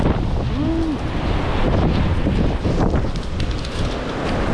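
Steady roar of wind-driven surf pounding the Lake Superior shore, a loud, continuous wash with heavy wind buffeting the microphone throughout.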